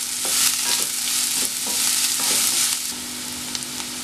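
Ingredients for a Mumbai bread sandwich fry in a pan, a loud continuous sizzle paired with repeated scraping strokes of a spatula stirring in a steady rhythm, close up with no voices.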